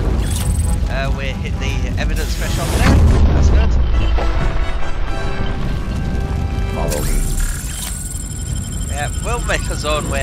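RoboCop smashing through a wall in the video game RoboCop: Rogue City, a loud sustained crumbling crash and heavy boom with mechanical clanks and game effects, alongside voices in the mix.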